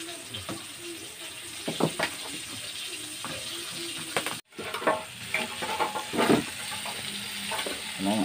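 Chicken frying in a hot pan gives a steady sizzle with occasional stirring and scraping, under intermittent talking nearby.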